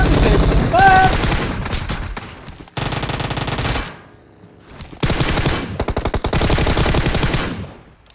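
Rapid automatic gunfire in PUBG Mobile, loud bursts of machine-gun fire repeating in several long volleys with brief gaps between them, with a voice shouting briefly.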